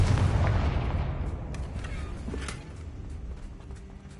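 Confringo blasting spells fired in the Hogwarts Legacy video game, a loud booming explosion that starts at full force and rolls off into a long decaying rumble, with a few sharp smaller bursts crackling through the tail.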